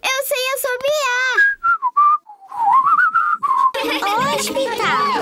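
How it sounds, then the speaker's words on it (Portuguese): A cartoon child whistles a simple tuneful melody in a Peppa Pig episode, clear pitched notes rising and falling, broken by short pauses, with lively chatter and music joining near the end. "Isso está parecendo um assobio."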